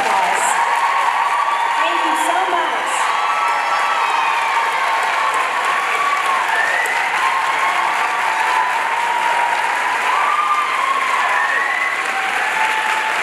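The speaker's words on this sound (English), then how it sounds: "We'd love to give you a round of applause." An audience at the Miss Massachusetts 2021 pageant finals applauds and cheers, sustained loud clapping with scattered whoops, as a voice speaks over the crowd.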